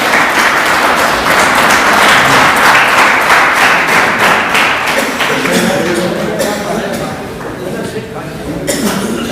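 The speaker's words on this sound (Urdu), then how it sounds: "آپ تالی بجا کر ان کا استقبال کریں۔" Steady applause from a school audience at a farewell ceremony, welcoming the headmaster and staff, loud and close, thinning out toward the end with some background murmur.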